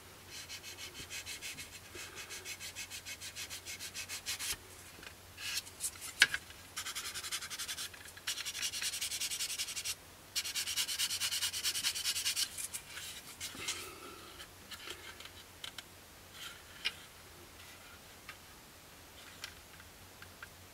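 Plastic parts of a 1/48 scale Kinetic Pucara model kit are sanded by hand in a quiet room. A soft, papery rasping comes in several stretches with brief pauses and a few faint ticks.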